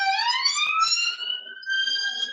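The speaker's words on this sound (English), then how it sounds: "believe that that ambulance is going to get there in time for the person that need help" An ambulance siren passes outside, a loud, steady rising and falling wail with a few faint clicks, heard alone without talk.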